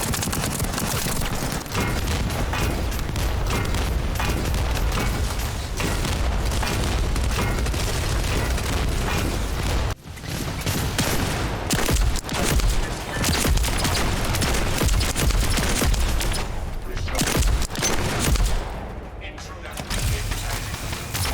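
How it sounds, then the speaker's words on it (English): Gunfire from the sci-fi shooter The First Descendant, rapid automatic bursts and booming weapon shots in dense, continuous volleys, loud and up front, with occasional in-game voices mixed underneath. "The bullet sound effects didn't sound as heavy and effective as I'd like."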